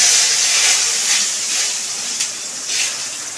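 Black mustard seeds and dry red chillies sizzle in hot oil as a steady, loud spattering hiss that swells and eases in a few surges, with no talking.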